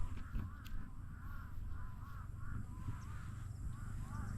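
Many crows cawing repeatedly outdoors over a farm field, a steady chorus of harsh calls over a low rumbling background.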